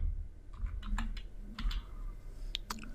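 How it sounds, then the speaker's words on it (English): Someone typing "System.out" on a computer keyboard, a quick irregular run of close, crisp key clicks over a quiet low hum. "So I'm going to type in system."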